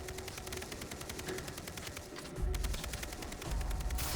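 Rapid bursts of Far Cry 3 gunfire, dense automatic shots crackling continuously with heavier booming hits near the end, no talking.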